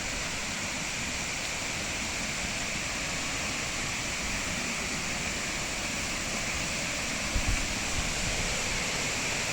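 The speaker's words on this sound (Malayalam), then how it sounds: "ട്രിപ്പിൾ വെള്ളച്ചാട്ടമാണത്." Triple Falls waterfall near Kattappana roaring as a dense, steady broadband rush of falling water, constant and enveloping throughout with no voices.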